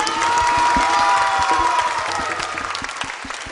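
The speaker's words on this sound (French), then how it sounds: "On applaudit très très fort" Loud, close applause from a crowd at a children's show, mixed with some cheering and a sustained musical tone early on, the clapping thinning slightly toward the end.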